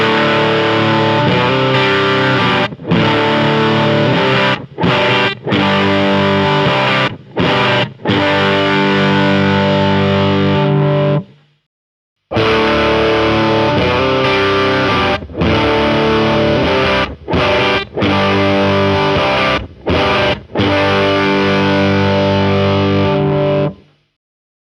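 Heavily distorted electric guitar played through speaker cabinets, loud and dense, with sustained chords broken by short rhythmic stops and a brief full pause midway before the riff resumes.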